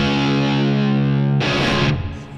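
Heavily distorted electric guitar riff with huge layered tone, loud and close, sustained low chords then a brighter burst of noisy high-end for the final half-second, no talking.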